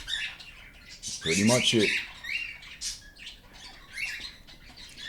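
Hand-fed cockatiel chicks squawk and chirp in a burst of harsh, rapid calls, near and fairly loud, followed by scattered shorter squawks while a person talks briefly.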